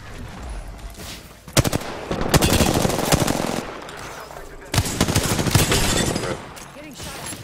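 Rapid automatic gunfire bursts in the Apex Legends video game, loud and close, with two long sustained volleys separated by quieter stretches; voices talk in between.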